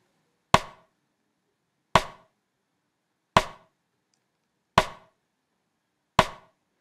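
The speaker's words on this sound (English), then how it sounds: "And then I've got the side stick, or you can call it the snare tap" Five sharp side-stick clicks on a snare drum in a reggae beat, evenly spaced about a second and a half apart, dry and isolated.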